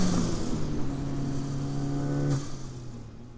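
Tuned, fully built BOSS500 B8 Audi A4 engine revving steadily up, holding a loud droning pitch before dropping back to idle, close and clear with no talking.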